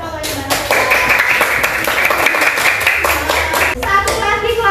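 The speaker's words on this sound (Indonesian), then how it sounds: "Tepuk tangan buat kelompoknya Mbak Nabila." A classroom group claps for a student's team, a burst of rapid, dense hand clapping lasting a few seconds, with children's voices mixed in and speech near the end.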